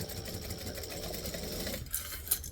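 A sewing machine stitches fabric for a D-ring add-on piece, running a steady fast whirring stitch that stops abruptly partway through, followed by a couple of faint clicks, all close to the listener.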